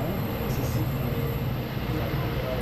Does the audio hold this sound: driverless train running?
yes